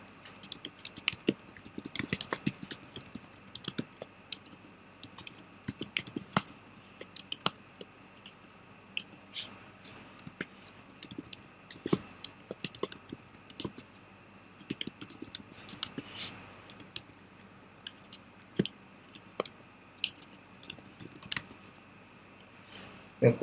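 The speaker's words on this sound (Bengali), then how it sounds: "চলো আমরা কোড লেখা শুরু করে দিই" Code is typed on a computer keyboard as quick, irregular clicks of keys with short pauses between bursts, fairly close and faint over a quiet room hum.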